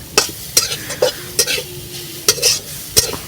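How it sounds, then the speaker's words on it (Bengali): Ginger paste fries on a low flame, likely on a clay stove, as a spatula knocks and scrapes the pan about every half-second over a soft sizzle; no talking. "আদা বাটা একদম লো ফ্লেমে এটাকে ভেজে নিচ্ছি"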